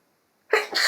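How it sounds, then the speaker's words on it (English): A single short sneeze from a pregnant woman bursts out after a moment of silence, close and fairly loud with a sharp onset and a breathy tail. "I'm sneezing way more than I usually do"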